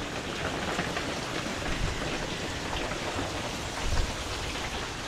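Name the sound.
rain falling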